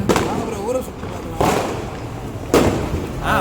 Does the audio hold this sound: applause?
no